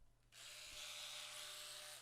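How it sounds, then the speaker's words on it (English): An Oral-B electric toothbrush switches on after a brief pause and then runs with a steady, close, high buzzing hum that continues to the end. "electric toothbrush. I bought this 2 years ago"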